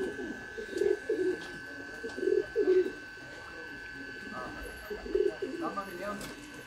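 A pearl-marked Sialkoti flying pigeon coos in several soft, low throaty bursts, close by, while people talk quietly in the background between the calls.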